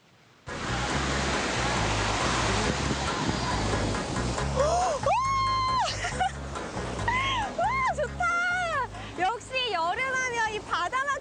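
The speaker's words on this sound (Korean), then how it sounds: "지금 이 시원한 파도 소리 들리시나요?" Ocean waves break on Dongho Beach in Yangyang, Korea, as a dense, continuous wash of surf. A person begins talking over the steady roar about halfway through.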